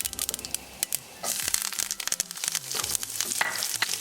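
Green chilies and curry leaves crackle and sputter in hot oil during a tempering for dhokla, a busy run of sharp pops and crinkling spits, close and moderately quiet with no talk.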